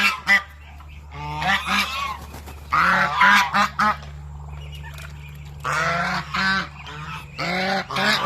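Several loud, harsh honking calls from a large male duck on a farm, in bursts with short pauses between, close by.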